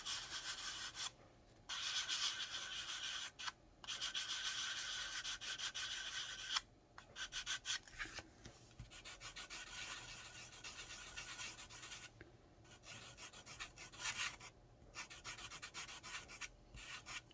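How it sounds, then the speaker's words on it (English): Sandpaper rubbing over the surface of an old, nearly ruined journal, a close continuous scratchy sanding in long strokes broken by brief pauses, heard alone without speech. "I'm being careful because sandpaper can leave north, south, east, west lines."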